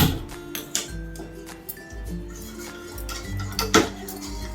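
A spoon stirs a makhana powder mixture in a pan on a gas stove, giving repeated light metallic scrapes and clinks at close range over a low steady hum.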